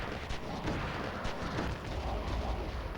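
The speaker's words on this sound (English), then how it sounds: "we want to avoid getting shot by the scram cannon" Scram cannon fire in the video game Oni: a dense, continuous barrage of booming, rumbling blasts that fills the whole stretch at steady loudness, with no talking over it.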